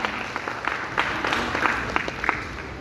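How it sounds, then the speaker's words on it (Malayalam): At a South Indian wedding, a crowd gives dense, steady applause of many overlapping claps as the couple is welcomed onto the stage. The clapping is fairly faint and continues throughout. "നമുക്ക് നിറഞ്ഞ കൈയടിയോടുകൂടി തന്നെ അവരെ വേദിയിലേക്ക് സ്വാഗതം ചെയ്യാം"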